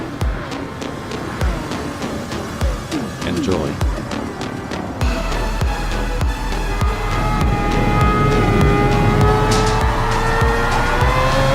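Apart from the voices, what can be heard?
race car engine in Gran Turismo 7 video game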